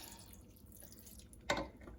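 Chicken broth made from bouillon base and water is poured into a slow cooker of turkey chili, giving a single short liquid splash and gurgle over a quiet kitchen background.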